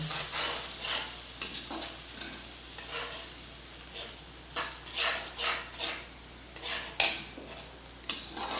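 Ground tomatoes sizzle and spatter in a hot pan for a paneer and capsicum curry, with steady frying hiss broken by repeated stirring scrapes and a few sharper clanks near the end; no voices.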